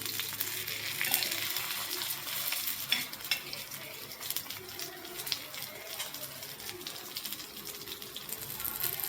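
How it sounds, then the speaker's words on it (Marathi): Tikki patties fry in a pan, a constant bright sizzle and crackle of hot oil carrying on evenly throughout, with faint scraping and stirring underneath. "दोन्ही बाजूने आपल्याला फ्राय करून घ्यायची आहे बघा टिक्की."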